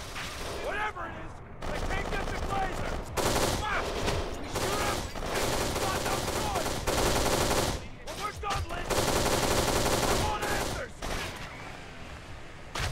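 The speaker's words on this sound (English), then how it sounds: "Yo, I'm grabbing the AK and I'm shooting at him." Automatic rifle fire from an AK in Kane and Lynch 2, rattling out in dense, sustained bursts with short gaps, loud and close, with game sounds filling the background.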